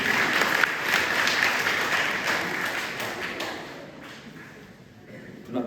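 Church congregation applauding together, a dense wash of clapping that holds steady, then thins and fades toward the end, with a voice briefly audible.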